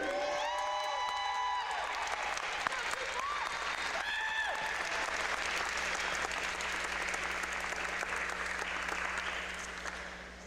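A basketball crowd applauds and cheers for a senior player, with a whoop early on and continuous clapping building steadily across the arena over about ten seconds before easing at the end.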